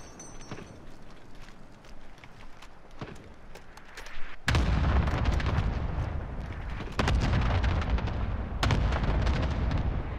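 Heavy gunfire and booming shots in a Call of Duty duos match, sparse distant cracks at first and then dense, loud sustained bursts filling the second half.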